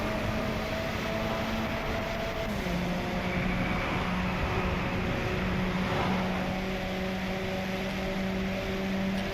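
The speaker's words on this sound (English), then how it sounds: "It was that Ferrari that sounded really good." Ferrari engine in the DRIVECLUB racing video game, a steady sustained drone with shifting pitch tones as the car accelerates and changes gear, loud and continuous throughout with no talking.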